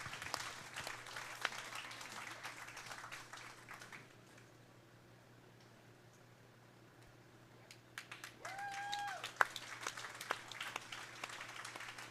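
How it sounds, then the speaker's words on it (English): Scattered applause from a county fair crowd after a dairy steer showmanship class, light and patchy, fading to near silence midway before picking up again faintly. "Let's give these 3 showmen a well-deserved round of applause on a job well done."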